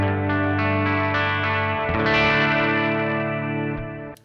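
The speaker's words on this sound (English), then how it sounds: "I put together a small pedal board for this, so here is a little bit of delay and reverb." An electric guitar played through a small pedal board with delay and reverb sustains bright chords, each strum ringing out in overlapping repeats and a washed, echoing tail, alone without talk.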